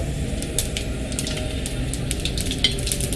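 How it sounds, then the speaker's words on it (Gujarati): Whole mustard seeds and cumin sizzle in hot oil while tempering for Ratlami sev tameta shaak, a steady close frying hiss with sharp little crackles and pops scattered across it. "રાઈ સરસ ફૂટી ગઈ છે તો હવે 1 ચમચી જીરું નાખી દેશું।"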